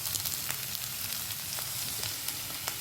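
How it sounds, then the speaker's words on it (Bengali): Chopped vegetables sizzle and fry in a wok with a little oil, a steady close crackle broken by light scraping stirs, heard alone without talk. "কেটে রাখা সব সবজিগুলো একটু কড়াইয়ে দিয়ে দিলাম।"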